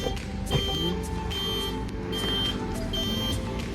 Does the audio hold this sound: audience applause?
no